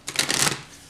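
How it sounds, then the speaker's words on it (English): Tarot cards being shuffled, a quick close riffle of papery flutters lasting about half a second before fading. "I feel like I want to shuffle this."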